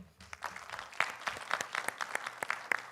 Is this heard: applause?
yes